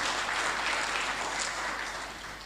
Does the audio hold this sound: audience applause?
yes